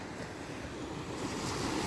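Surf washes steadily onto Shiroda beach near Vengurla, a continuous rushing roar of waves mixed with wind noise, with no voices.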